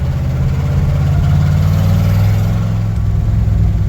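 An old 1-ton pickup truck engine with a vacuum leak runs steadily at a loud, close idle, its low rumble continuing without any change in pitch.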